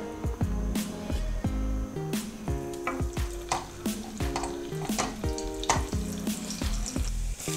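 Butter dropped into hot oil in a kadhai while cooking restaurant-style palak paneer, giving a steady sizzle and frying crackle, broken by quick clatters, with tuneful background music running throughout.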